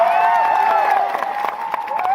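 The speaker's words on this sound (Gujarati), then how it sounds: "સંઘર્ષશીલ એવા આનંદભાઈ પટેલ સાહેબ માટે જોરદાર તાળીઓ પાડી લઈએ" A crowd at a political rally in Netrang, Gujarat claps and cheers in a dense, sustained burst, heard under amplified speech and music.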